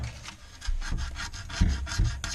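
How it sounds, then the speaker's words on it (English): A scraper is drawn repeatedly across a painted drain trap arm pipe to strip the paint, making about five close, rhythmic rasping strokes with no talk. "So the reason I'm scraping all this paint off is because I'm gonna put glue on here."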